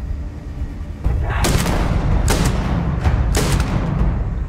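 Gunfire in a Starfield firefight against a group of enemies: three loud, sharp bursts of shots ring out over a steady rumbling background, spaced roughly a second apart.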